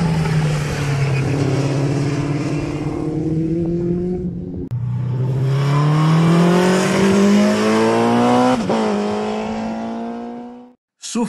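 A car circuit-lapping on a race track, engine pitch climbing steadily through the gears in long close revving sweeps, briefly dropping at a shift and again near the end before cutting out.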